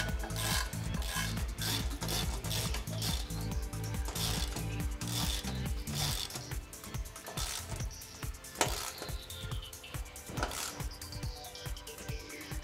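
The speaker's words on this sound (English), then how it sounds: "Tighten the fastening nuts with the size 17 socket." A ratchet with a size 17 socket tightens fastening nuts while a TWIN BUSCH TW X-93 tyre changer is assembled: close, steady rapid clicking strokes, then slower, more irregular ratcheting and mechanical rubbing.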